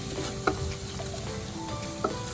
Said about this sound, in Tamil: இந்த மைதாவை போட்டு லைட்டாக மீடியம் ஃப்ளேம் வச்சுக்கோங்க